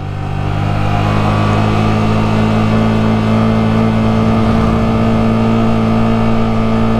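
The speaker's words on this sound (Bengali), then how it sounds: "ইঞ্জিনের সাউন্ড শুনেন" A car engine laboring on a hill road in Sajek gives a loud, close, continuous drone with a steady low hum and a slight rise in revs, with no voices over it.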